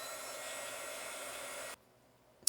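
A heat gun warms adhesive grip tape, giving a steady close airy blowing roar that cuts off abruptly, followed by a brief click.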